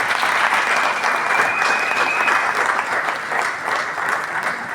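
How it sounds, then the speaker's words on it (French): A crowd at an academic ceremony honoring Congolese youth applauds and cheers, a dense, loud, continuous roar of clapping with a faint whistle. "Est-ce qu'on peut l'envoyer s'il vous plaît avec les acclamations."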